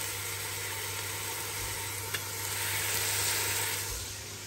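Garlic hits a hot pan and sizzles in a steady, loud, continuous hiss with a faint hum underneath.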